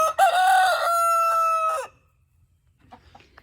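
A small Bantam rooster crows once up close, a loud drawn-out call lasting almost two seconds, followed by faint, scattered farmyard noises.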